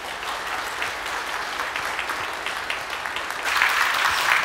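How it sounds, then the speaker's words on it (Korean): A congregation at a Sunday church service applauds to welcome their pastor in a dense, steady roar of many hands, fairly close, that swells louder toward the end. "목사님 힘찬 박수로 환영하시고"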